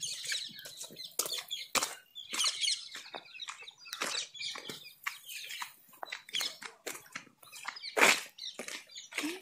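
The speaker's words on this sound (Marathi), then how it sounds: "तुम्ही ते पोपट बघू शकता कसले उडून राहिले बिंदास्त" Parrots flap their wings in flight, a dense run of quick, sharp fluttering bursts and rustles at close range, irregular and busy, with a louder flurry near the end and no talking.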